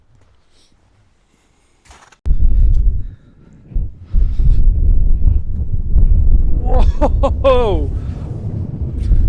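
Cold mountain wind in the snowy Dolomites buffets the microphone with a loud, steady low rumble that starts abruptly and carries on to the end; a voice gives a brief exclamation partway through.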